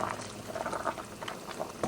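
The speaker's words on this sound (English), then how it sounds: "I'm just gonna kind of let this simmer a little while to really let the sauce get into the meat" Homemade meat sauce for lasagna simmers in a pot, a continuous soft bubbling with scattered pops and gurgles, close and moderately loud.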